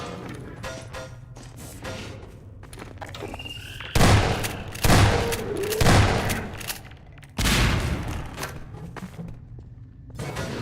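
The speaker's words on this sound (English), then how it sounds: "That grenade must have a lot of powder in it if it's able to launch some steel beams like that" A grenade goes off in Half-Life 2: Episode Two and sends steel beams flying, with several heavy booms and crashing impacts over scattered gunfire and debris.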